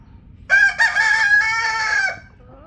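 A rooster crows loudly and close by in a breeding pen housing four hens, one long drawn-out cock-a-doodle-doo with a short break near the start, against a quiet background.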